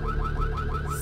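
A car alarm wails in the video game Vampire: The Masquerade – Bloodlines, a steady looping siren with rhythmic rising sweeps, heard alone at moderate volume.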